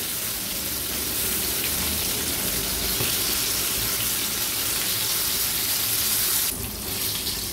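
Fresh kaleti fish pieces sizzle in hot oil in a pan as they are flipped, a loud steady crackling hiss filling the space, briefly interrupted near the end by a sharper burst of spatter.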